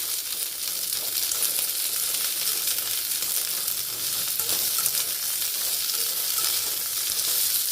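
Bitter gourd sautés in a pan with a dense, even hiss of frying that holds steady from start to finish, close and moderately loud, with no speech.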